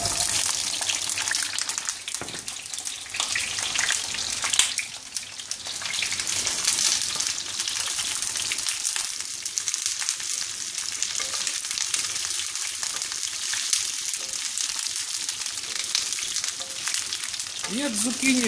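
Sliced zucchini fries in hot oil in a pan for oven-roasted vegetables, a loud, continuous crackling sizzle with bursts as pieces hit the oil and occasional stirring, heard up close.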